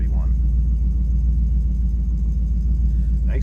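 A 1978 Chrysler Cordoba engine idling steadily, a deep, even rumble close by with a faint rhythmic pulse and no change in revs.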